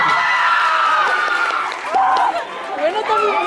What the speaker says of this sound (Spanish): un aplauso para Mati, que va a leer el mensaje